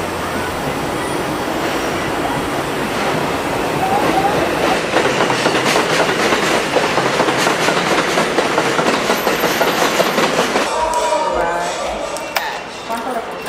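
A New York City 4 subway train in the Bronx rumbles past loudly, steady rail noise with clattering wheels and a metallic squeal, the roar easing off near the end.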